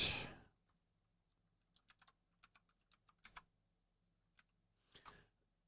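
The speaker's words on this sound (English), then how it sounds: "We'll try typing that @ into here and seeing if we can find that." Keys on a computer keyboard are tapped in short irregular bursts of light clicks with pauses between them, faint and close, after a brief louder rustle at the start, with no talking.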